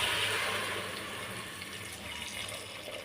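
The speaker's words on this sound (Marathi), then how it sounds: "यामध्ये आता आपण गरम पाणी टाकूया" Hot water pours steadily into a pressure cooker for mutton paya soup, a continuous splashing rush that eases slightly as it goes on.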